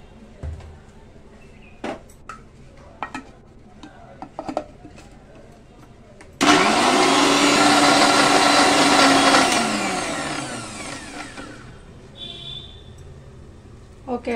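A mixer grinder blends green chilies, cumin, fenugreek, sesame seeds, salt and garlic into paste, starting abruptly as a loud steady whir that holds for about three seconds, then winds down, with faint kitchen clatter around it.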